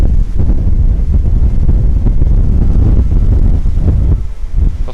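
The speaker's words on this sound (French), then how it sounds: "il peut y avoir un gros coup de vent et ça vous pousse" Strong wind gusts buffet a high cliff-edge mountain summit about 700 metres up, roaring loudly and continuously across the microphone with rumbling low bursts and no talk.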